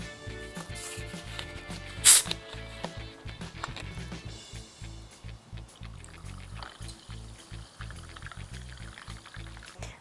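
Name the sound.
mineral water being poured into a drink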